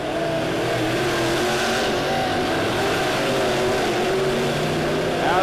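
Dirt track race cars roar around Lebanon Midway Speedway during an A-Feature, several engines blending into a loud, steady, droning howl with shifting revs from start to finish.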